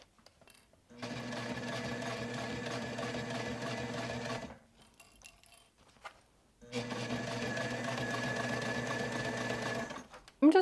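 A hand-cranked sewing machine stitches a leather wallet, running in two long steady bursts of rapid mechanical stitching separated by a short pause, close and fairly loud.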